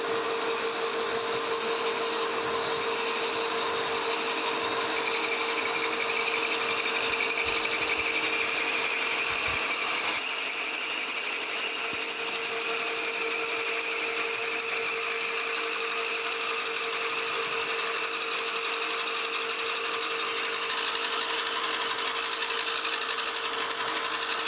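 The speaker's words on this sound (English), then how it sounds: "We'll get this face and then drill that center drill." A metal lathe faces the end of a new shaft, fed in by hand, while restoring a New Haven metal planer. It gives a steady, continuous machining whine with a faint shift partway through and no talking.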